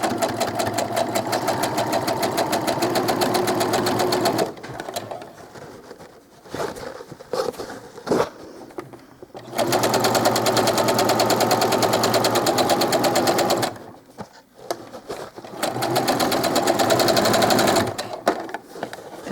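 Sewing machine with a twin needle stitching doll clothes, running in loud steady bursts of rapid stitching separated by short pauses and quieter handling sounds.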